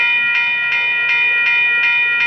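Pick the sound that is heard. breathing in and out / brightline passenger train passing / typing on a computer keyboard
brightline passenger train passing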